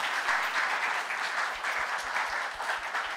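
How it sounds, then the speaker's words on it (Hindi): Audience of students in a classroom Q&A session breaking into sustained applause, a dense even wash of many hands clapping close and steady throughout with no talk over it. "एक बार ताली हो जाए इसके लिए"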